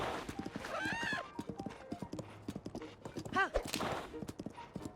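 Horse hooves clip-clopping at a steady trotting rhythm while riding a horse named Radiance in Zelda: Tears of the Kingdom, with occasional whinnies and snorts over the beat, moderately close and fairly quiet.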